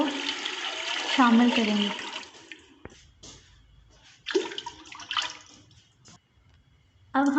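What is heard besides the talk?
water being poured into a cooking pot of masala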